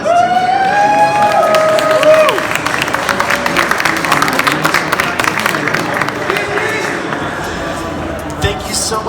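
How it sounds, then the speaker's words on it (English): Large crowd applauding and cheering at the Pokémon European International Championships in Frankfurt, loud sustained clapping and whoops filling an arena, with voices shouting over it and the noise easing slightly toward the end. "please give one more round of applause"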